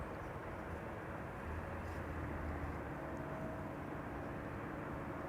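A distant airliner approaches to land at Schiphol, its faint, broad jet rumble holding steady and low with no voices.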